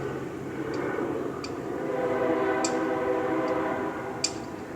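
A train rolls past with a steady, loud rumble and sustained horn-like tones, while sharp metallic clicks pop out at irregular intervals.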